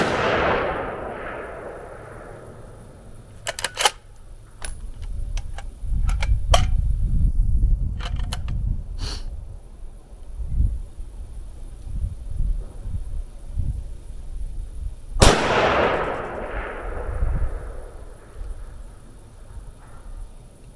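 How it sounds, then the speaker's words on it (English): Rifle shots fired from a tripod setup outdoors, a sharp loud crack at the start and another midway, each trailing off in a long echo, with wind and faint rustling between them. "grab some ammo, grab some ears, take a few shots here, and we'll see if I can get some impacts"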